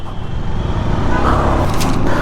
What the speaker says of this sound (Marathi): चला आपण ऐकून जाऊ जाम ट्रॅफिक लागूया